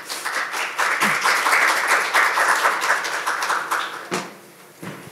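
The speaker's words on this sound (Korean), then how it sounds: "박수로 환영해 주시기 바랍니다" An audience at a bond market seminar applauds to welcome a speaker, steady dense clapping for about four seconds that then thins out and fades, with no one talking.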